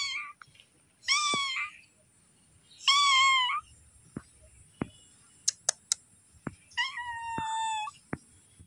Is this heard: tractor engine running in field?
no